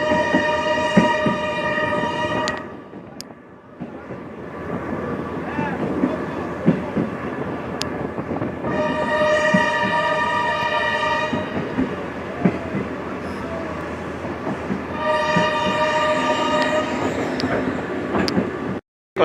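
A train moves through the Ebute Metta rail station in Lagos, sounding its horn in three long sustained blasts over a steady rumble and wheel noise, with people talking faintly underneath.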